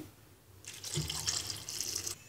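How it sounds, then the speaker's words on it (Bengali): A cup of water splashes into a pan of chopped mangoes, a soft rushing stream lasting about a second and a half, nearby and fairly quiet. "এখন দিচ্ছে এক কাপ পরিমাণ পানি"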